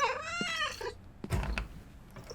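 A pet cat gives one clear, drawn-out meow up front, followed by faint shuffling and soft bumps nearby, with no talking.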